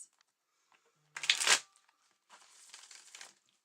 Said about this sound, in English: I'm just shuffling my cards.